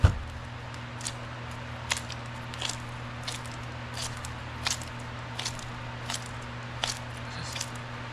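Apoxie Sculpt modeling putty is folded and kneaded by hand, giving soft, irregular squishes and clicks roughly every second over a quiet background hum, close up with no voices.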